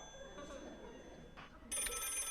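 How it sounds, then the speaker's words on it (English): A telephone ring used as a stage sound effect in a school play cuts in abruptly as a bright, steady electronic trill, fairly faint and heard over a quiet room with brief murmurs before it. "There it is again. That's the phone, Ken."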